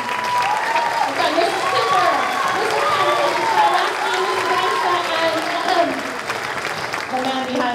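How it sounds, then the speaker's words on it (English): Applause rises from the audience at an elementary school spring concert as fourth grade staff stand, dense clapping under a voice that keeps speaking over it. "take a little applause here"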